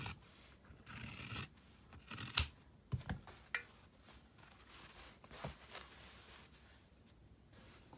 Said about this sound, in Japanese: クリップか待ち針で留めてハサミで切ります。